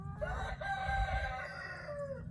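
A rooster crows in a long drawn-out call over low, continuous clucking from nearby chickens, fairly quiet and without talk.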